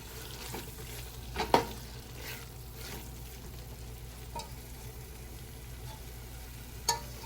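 Beef tikka karahi gets stirred in a pan on the stove: a steady low sizzle of frying runs throughout, with a few brief scraping clinks of the spoon near the start and once near the end, and no talking.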